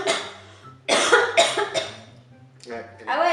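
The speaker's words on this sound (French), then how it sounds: "je tousse comme un bébé, c'est-à-dire que je tousse la langue sortie" Several harsh, wet coughs in quick bursts, close up, with a short pause and a final cough fit; some voiced sounds mixed in.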